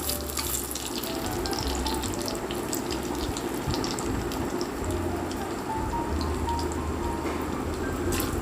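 Urad dal fritters (rosbora) fry in hot oil with a steady, dense sizzle and crackle that stays loud and even throughout, with no talking.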